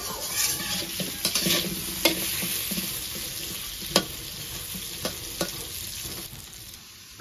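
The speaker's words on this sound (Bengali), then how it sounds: "এবার পেঁপে গুলাকে আমি লাল লাল করে ভেজে নিব।" Papaya pieces fry in oil in a kadai, a continuous close sizzle broken by scattered scrapes and knocks as a spatula stirs them, with no voices.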